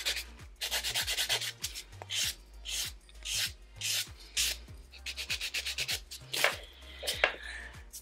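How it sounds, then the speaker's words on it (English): A buffing block rubs across bitten fingernails in quick back-and-forth strokes, a close, dry scratchy rasping that comes in rhythmic bursts with brief pauses. "I'm gonna use a buffing block to also get rid of some of those scratches."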